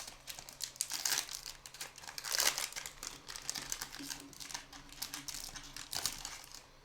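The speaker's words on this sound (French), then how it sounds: "maintenant c'est à mon tour d'ouvrir ces petits boosters" Pokémon card booster packs being torn open and their foil wrappers crinkled, a busy run of close, crackling rustles and rips with a louder burst midway, no talking.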